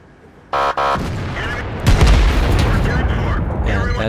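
Artillery round striking an American T34 tank in World of Tanks: a short double burst, then a heavy booming impact that rumbles on under ongoing engine and battle noise.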